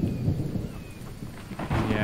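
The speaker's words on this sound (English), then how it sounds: "it is raining and it is getting dark" Rain and rolling thunder inside the video game The Infected, a low continuous rumble with steady broadband hiss that swells again near the end, heard alone without talk.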